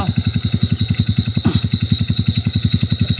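Motorcycle engines are started and left running on a mountain, idling with a steady, rapid, even pulse that is close and loud and heard alone.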